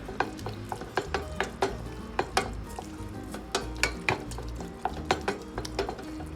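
Antep-style breakfast sauce stirred in a pan: a spoon scraping and clacking at an irregular, fairly quick pace over a soft background sizzle, no talk.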